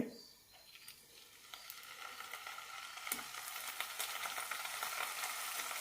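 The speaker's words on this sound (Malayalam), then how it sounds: "എണ്ണയിലിട്ട് നന്നായി വറുത്തെടുക്കാം" Strips of paneer fry in hot oil over a medium flame. A soft, crackling sizzle starts quietly and gradually builds, with scattered pops.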